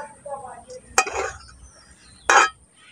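A metal pot of boiled raw mango jelly pickle is lifted off a stove, giving two sharp clanking knocks of metal on metal, about a second apart, over a quiet background.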